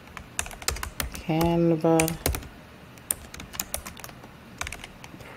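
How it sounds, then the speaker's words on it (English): Computer keyboard typing in quick irregular clicks, heard near and clear, with a person speaking briefly in the middle of the keystrokes. "I type my topic and hit enter."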